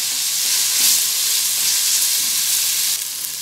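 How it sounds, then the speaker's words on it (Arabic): Spices, onion and garlic fry loudly in a pan as they are stirred, a dense, bright, continuous sizzle heard up close that eases slightly near the end, with no speech. "نقلب كده اخلي البهارات تندمج قوي مع البصل والثوم"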